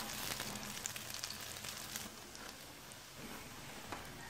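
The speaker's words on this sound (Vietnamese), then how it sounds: "Trong lúc chiên á thì mình canh mình chở sườn cho nó được giòn đều hơn á." Vegetarian sweet-and-sour ribs fry in hot oil, giving a faint, steady hiss and crackle with scattered small pops throughout and no voices.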